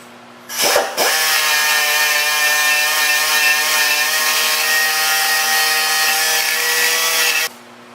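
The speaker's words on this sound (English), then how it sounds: "I like to grind on it just for a quick second, just to make sure the surface is good and clean before I weld the nut to it" Angle grinder briefly cleaning the surface of a welded-on stud on an LS exhaust manifold bolt, a loud steady whine with a high ringing tone that starts abruptly, holds for about six seconds, then cuts off.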